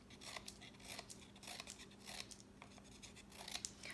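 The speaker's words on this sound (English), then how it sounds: "So maybe I'll cut some orange pieces of paper and have some orange cheese." Scissors snip through orange paper in a quiet room, a string of faint crisp cuts and rustles in an uneven rhythm, close up with no talking.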